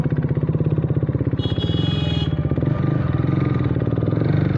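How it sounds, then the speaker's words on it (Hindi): A motorcycle engine idles just after starting, a steady close-up putter with even pulsing beats and a brief higher whine partway through, no talk. "बाइक हो गया स्टार्ट"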